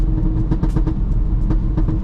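An Audi RSQ3 engine with a fault roars loudly and continuously, with rough rumbling and bursts of revving throughout.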